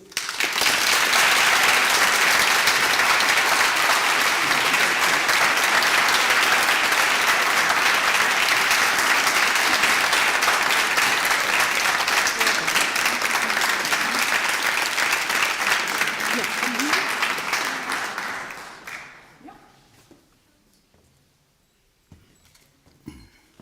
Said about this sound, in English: So I would like to have an extra applause for Mariam Gobian-Nitze